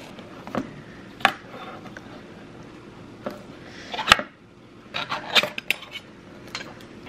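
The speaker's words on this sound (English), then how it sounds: "As I stir in these ingredients" Metal utensil clinking and scraping against a dish while stirring ingredients, including canned vegetables, for a home-cooked baked casserole; several separate sharp clinks and scrapes, close and moderately loud, with no talking.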